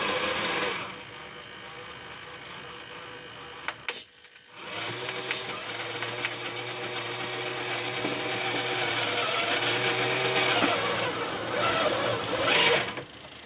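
A HengGuan P407 RC crawler kit, a Bruiser clone, runs its drivetrain on test after a bearing repair, giving a steady close whirring and grinding buzz that briefly cuts out before resuming at a constant pitch.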